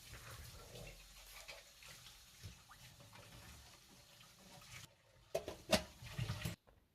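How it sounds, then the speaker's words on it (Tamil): Rice being washed under running tap water in a home kitchen, a steady close splashing and trickling throughout, ending in a few louder clattering splashes before the water stops. "ரைஸை வாஷ் பண்ணி நிற்கிறேன்"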